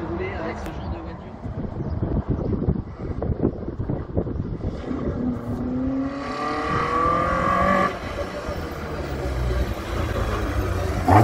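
A rally car at the 2023 Rallye du Chablais passes with a rising engine note and swelling road and wind rumble, near and loud, under a commentator's voice with steady wind buffeting.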